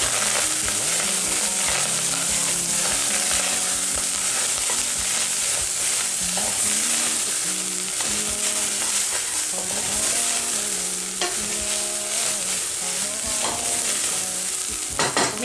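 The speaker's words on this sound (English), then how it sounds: "Then I'm going to add black pepper, give it a quick stir." Beef mince with garam masala and black pepper being stirred and fried in a pan for lasagne, with a steady sizzle and repeated scraping strokes of the spoon, close and continuous.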